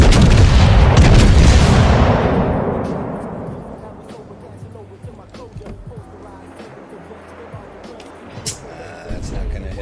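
Big-gun salvos from battleships in the naval combat game World of Warships, starting with a loud, heavy boom whose rumble fades over a couple of seconds. Quieter thuds follow, with a voice speaking faintly underneath.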